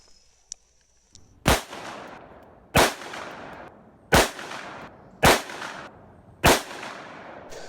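Five loud gunshots from a ported .44 Magnum Ruger revolver, evenly spaced about a second apart, each a sharp close blast with a ringing decay, no talking.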